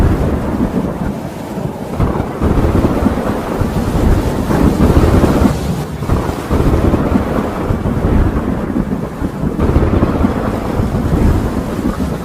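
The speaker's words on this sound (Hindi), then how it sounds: "अचानक काले बादल छा गए और तेज बारिश शुरू हो गई।" Heavy rain pours steadily at night while deep thunder rumbles and rolls throughout, loud and close, with wind gusts adding to the dense roar.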